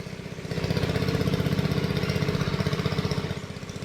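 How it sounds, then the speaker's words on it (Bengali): A shallow water pump engine runs steadily while draining a pond in a small village, its chugging putter loud and close, a rapid regular pulse holding constant for several seconds without voices. "এদিকে একটা সেলো মেশিন চলছে"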